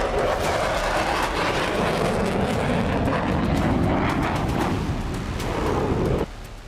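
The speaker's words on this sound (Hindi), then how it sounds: "ये जंगबाज हैं F-16 फाइटर जेट और F-35 लाइटनिंग II जंगी विमान।" Loud, sustained roar of an F-16 fighter jet and F-35 Lightning II warplane, a broad rushing engine noise that swells slightly before cutting down sharply near the end; no talking.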